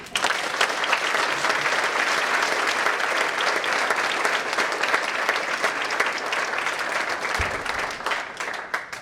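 Sustained audience applause for a panel of speakers, dense and even clapping from a crowd that carries on steadily for several seconds before easing slightly at the end.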